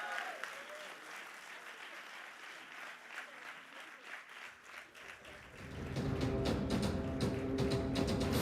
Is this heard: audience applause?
yes